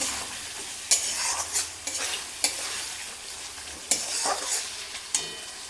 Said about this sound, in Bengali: টমেটো দিয়েও কিছুক্ষণ একটু নাড়াচাড়া করব যাতে টমেটোটা ভালোভাবে গলে যায়